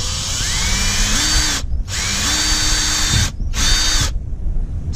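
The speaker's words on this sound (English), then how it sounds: "You need to drill 2 4mm screw holes." A power drill bores 4mm screw holes into a Viking ProFish Reload kayak, whining loudly in three bursts with short pauses, its motor pitch stepping up in each run.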